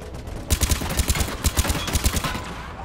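A Vindicator battle rifle fires in Mass Effect 3, delivering several quick three-round bursts of close, punchy shots in a steady rhythm.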